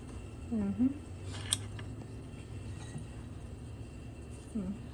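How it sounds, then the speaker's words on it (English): Scissors snip through a straw in a few quick, close, faint cuts, with a sharp click in the middle, set in a quiet kitchen while making a strawberry daiquiri. "And cut a straw."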